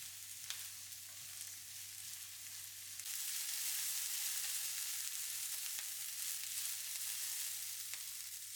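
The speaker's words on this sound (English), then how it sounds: "Stir fry for about 3 to 4 minutes until they are tender crisp." Chicken and vegetables stir frying in a hot pan, a continuous soft sizzle that grows louder and brighter partway through, with faint occasional clicks of stirring, no voices.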